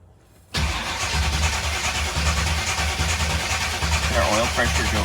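A 1975 Chevrolet Corvette engine cranks on its starter, a steady, loud, continuous churning that runs for several seconds after a brief quiet start, with a voice speaking over it.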